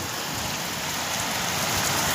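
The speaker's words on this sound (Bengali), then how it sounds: "সেরকম বৃষ্টি, সেরকম বৃষ্টি হচ্ছে" Heavy rain pours down in a steady, dense hiss close by, unbroken and without voices throughout.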